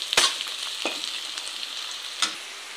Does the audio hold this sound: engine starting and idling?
no